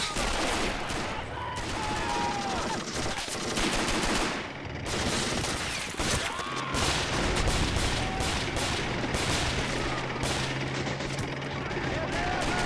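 Dense, continuous battlefield gunfire from the Men of War Assault Squad 2 video game: overlapping rifle shots and rapid bursts layered with heavier booms, loud and unbroken for the whole stretch.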